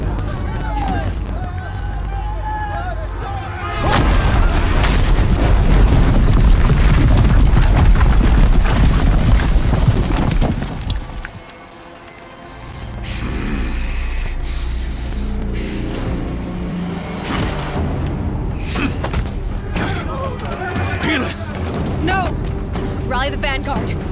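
Heavy mounted guns firing in Horizon Zero Dawn during a battle: a dense, loud burst of booming fire and chaos dominates a stretch, then briefly drops away before battle noise and shouted voices resume.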